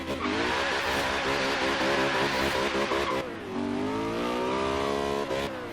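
BMW M3, lowered and stanced, launching hard in Forza Horizon 3: a loud, steady engine roar climbing through the revs, a brief dip at a gear change, then rising again, with tire noise under it and no talking.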